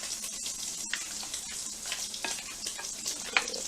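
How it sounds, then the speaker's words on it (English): Food frying in oil for a keto soul food dinner, a steady close sizzle with bubbling crackle and a few sharper pops and stirring clicks throughout, no voices. "Once I get this inside the oil and start cooking"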